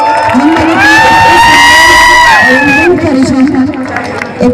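A large crowd cheers, whoops and shouts loudly and continuously at a live show by a singer in Kalahandi, with high shrill whistles and screams rising over the babble.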